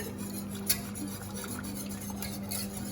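Cooked lentil dal being whisked in a pot, a low steady churning with faint metallic taps against the pot and one brief clink, no talking.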